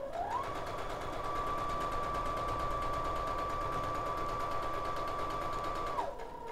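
A sewing machine stitches a paper-pieced quilt block in one continuous run of rapid, even needle strokes, close and steady for about six seconds before stopping.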